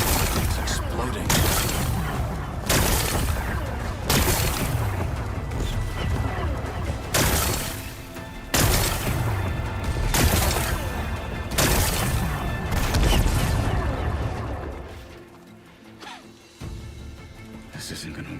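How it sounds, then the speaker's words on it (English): Rocks are blasted apart to expose a power cell in Horizon Forbidden West. Loud, close bursts of smashing and booming repeat at irregular intervals of one to two seconds, then fade into quieter rumbling near the end. "Gotta blast away some rocks, so I can expose the power cell."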